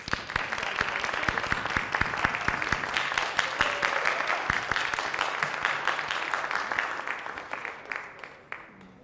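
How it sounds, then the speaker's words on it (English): An audience at a National Honor Society induction ceremony applauds the new inductees, crisp, dense clapping with distinct individual claps that stays loud for several seconds and then thins out toward the end. "if we could give another round of applause to our wonderful new inductees"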